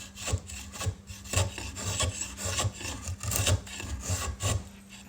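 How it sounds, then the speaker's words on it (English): A restored drawknife shaves wood in repeated rasping strokes, each pull a short scraping rush close to the listener, about eight strokes in steady rhythm with no voices. "I think this guy's cutting pretty nicely. It'll take fine shavings, it'll take heavy shavings"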